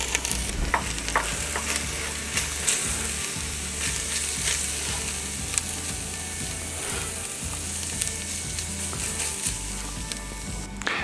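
Spices go into hot oil in a frying pan with peppers and get stirred, a continuous sizzle and fry under a spoon scraping and clattering against the pan, close and steady.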